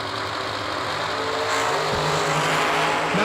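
Fuel Tech dragster racing at a New Year Nationals drag meet, a loud continuous engine roar with a rising pitch sweep near the end, steady and close with no talk.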